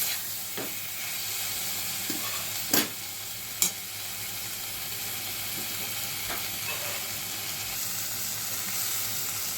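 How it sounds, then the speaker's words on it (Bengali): Fish and vegetables sizzling in a pan while a spatula stirs them for a Bengali mourala fish charchari, giving steady frying hiss throughout with a few sharp scrapes and clicks of the spatula, close and alone. "মশলার সঙ্গে সবজি আর মাছগুলোকে ভালো করে মিশিয়ে নেব। খুন্তির সাহায্যে নেড়ে নিচ্ছি।"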